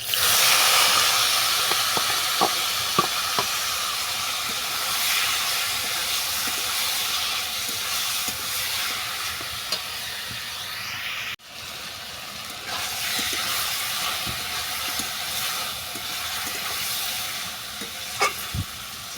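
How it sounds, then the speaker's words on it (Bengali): Chicken pieces sizzle and fry in hot oil in a wok after the tempering spices, with a steady loud hiss, occasional stirring scrapes and a brief dip midway. "ফোড়ন তো ভাজা হলো, এবার চিকেনটাকে একটু তুলে দেবো"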